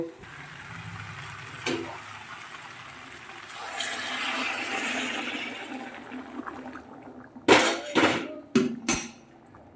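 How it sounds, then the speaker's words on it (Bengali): Hot water pours into a cooking pot of sautéed food in a soft, rushing splash lasting a couple of seconds, followed by several sharp metallic clanks of utensils and pot. "তো গরম জলটা আমি এর মধ্যে দিয়ে দিলাম"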